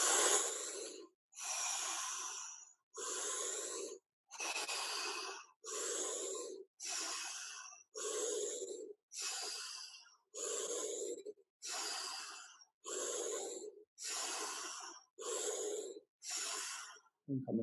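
A group breathing together in a guided breathwork exercise, about fourteen long, evenly paced breaths, each a loud, airy rush through the mouth with short gaps between, close and steady.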